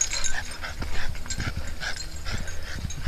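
A dog pants quickly and rhythmically out in the woods, close by, with soft scuffling movement around it.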